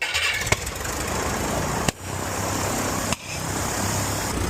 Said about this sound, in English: Maybe just try starting it idle, like barely in from idle.